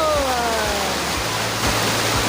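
Secret Falls in Doña Remedios Trinidad, Bulacan, a steady loud roar of falling water filling the air close by, constant broadband rush with no pauses.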